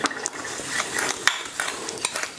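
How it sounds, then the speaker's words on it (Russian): A spoon scrapes and clinks steadily against a bowl while mixing baking soda and water into a paste, with a constant gritty stirring noise, close up. "Теперь это все перемешиваем, делаем такую кашицу."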